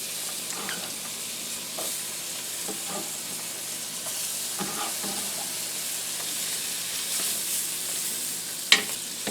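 Chopped small onion sizzling in a very hot pan with melted butter, a steady frying hiss running throughout with occasional stirring clicks and a sharper clack near the end.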